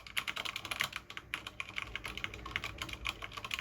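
Rapid typing on a mechanical keyboard with Cherry MX Speed Silver switches, a dense run of crisp light clicks and clacks in quick irregular rhythm, close up and alone with no voices.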